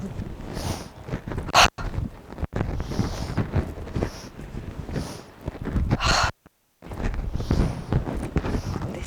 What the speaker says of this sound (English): We're going to finish with a nice breath of life, breath of fire.